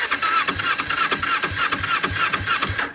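A motorcycle engine cranks and catches on a freezing cold day, a rapid rhythmic chugging that stays close and loud throughout.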